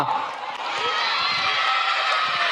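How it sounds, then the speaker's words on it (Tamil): Audience applause fills a hall at a stage event, a dense, steady wash of clapping that holds at an even level throughout, with a few voices mixed in. "இங்கதாங்க கைத்தட்டு அதிகமா இருக்கு"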